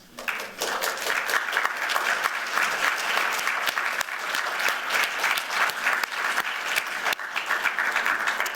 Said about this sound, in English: Students, please stand up and take a well-deserved applause.